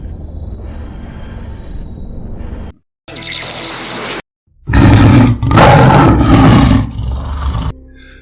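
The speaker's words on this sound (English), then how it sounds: "That was a tiger's roar, my dear Eric" A tiger roars in several long, loud, rough bursts separated by short silences, deep and forceful and heard alone without talk.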